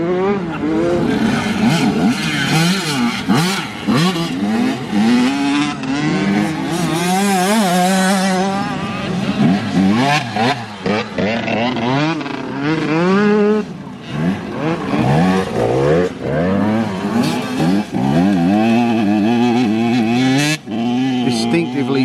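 Two-stroke motocross motorcycles racing on a muddy track, their engines buzzing and wailing through rising and falling revs as bikes pass near and far, overlapping continuously, with someone talking now and then over the noise.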